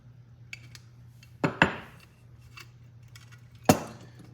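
A wrench works loose a nut on a Coleman 200a lantern, giving a few sharp metallic clicks and scrapes against quiet background hum, with two louder clanks spaced apart.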